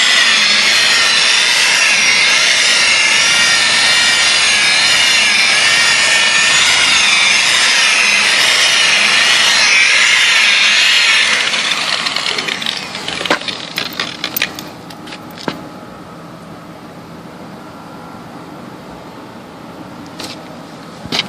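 A steady, loud whirring buff from a power polisher on car paint, polishing out swirl marks after wet sanding, runs for about twelve seconds, then cuts out, leaving scattered light taps and handling noises.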